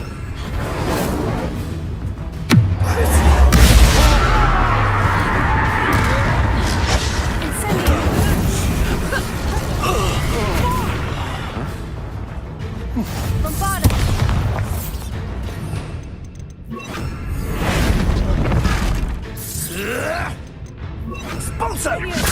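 Incendio fire spell in Hogwarts Legacy on PS5, a loud booming whoosh of flame over dense battle noise, with crashes and bursts running throughout and a character shouting nearby.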